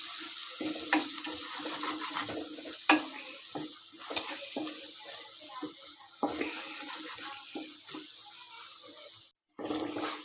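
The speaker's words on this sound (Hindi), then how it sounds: "अब हम डालेंगे तमाम मसाले और इन्हें अच्छी तरह भूनेंगे" Green chillies and spices fry in ghee for daal, a low sizzle broken by frequent scraping stirs and clicks of a spoon on the pot, close by, with a brief dropout near the end.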